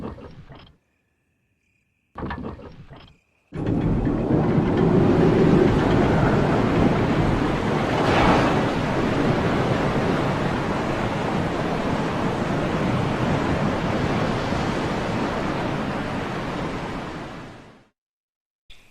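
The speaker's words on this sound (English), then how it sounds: "So we can hear the sound of a waterfall in the distance." Distant waterfall in an outdoor area of the video game Resident Evil, a steady broadband rushing roar that holds for about fourteen seconds after brief earlier bursts, then cuts out.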